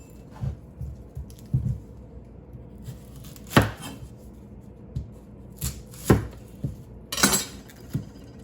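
Small onions are chopped on a cutting board, giving a scattered series of sharp knife thuds and taps, some louder and some softer, close by in a quiet kitchen while soup is prepared.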